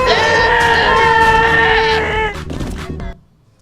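Goat bleat from the video game Goat Simulator, a loud, drawn-out wavering cry lasting about two seconds, then trailing off into a short noisy tail before silence.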